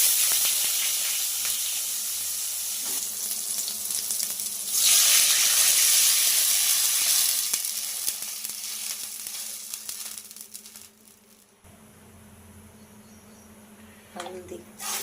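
Ajwain, cumin and soybean sizzle in hot oil with a loud, steady frying hiss that swells and then gradually quiets. Some clinks and a voice are heard near the end.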